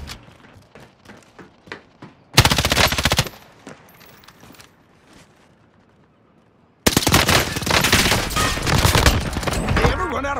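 Heavy machine gun fire in Call of Duty Warzone on Rebirth Island, with scattered single shots early, then two loud sustained bursts of rapid automatic fire, the second long and dense, close to the listener.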